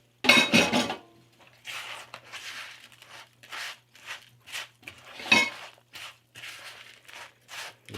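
Wet ingredients tossed into a crab cake mixture in a bowl, giving a sharp clattering burst followed by a string of softer, irregular scraping and clinking sounds, close up and moderately quiet.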